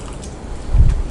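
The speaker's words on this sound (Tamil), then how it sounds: "இன்னும் கொஞ்சம் தண்ணி விட்டுக்கலாம்." Water poured into a simmering pot of onion-garlic sambar with tamarind, a short close splash and gurgle that swells near the end of a brief quiet moment.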